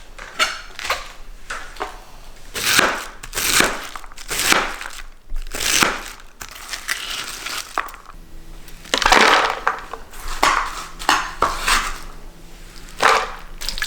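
Knife chopping half a cabbage for egg rolls, with crunchy, crackling cuts that come in repeated uneven bursts, close up and fairly loud.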